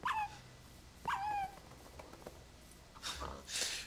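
A dog whimpering inside the Minecraft video game, two short high yelping whines about a second apart, fairly clear, followed by brief rustling noise near the end.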